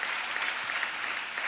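A church congregation clapping during a Telugu sermon, a dense, even round of applause heard from a moderate distance, steady throughout the short burst.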